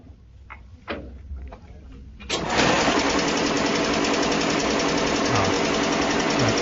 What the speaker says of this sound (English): Miles, could you please switch on the compressor?